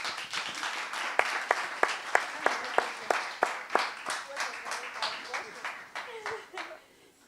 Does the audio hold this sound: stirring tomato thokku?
no